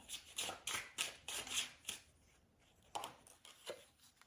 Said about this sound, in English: you might not be able to see me shuffle these cards